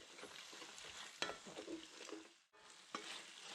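Gochujang venison stir-fry sizzles and crackles steadily in a hot pan, with a few sharp stirring scrapes and a brief pause before the frying noise resumes.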